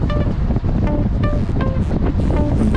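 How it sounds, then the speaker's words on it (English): Strong gusting wind buffets the microphone while cycling on an open road, a loud, rough roar that surges and dips throughout with no talking. "You hear the wind? It's really gusting"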